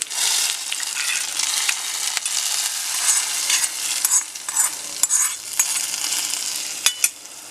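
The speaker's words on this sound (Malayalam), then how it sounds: "ഇനി നമുക്ക് സ്റ്റൗ ഓഫ് ചെയ്ത് കറിയിലേക്ക് ഒഴിച്ച് കൊടുക്കാം." A sizzling tempering of curry leaves, dried chillies and shallots fried in oil is poured into masoor dal and stirred, with loud, steady frying crackle, close spoon scrapes and a few sharp metallic taps.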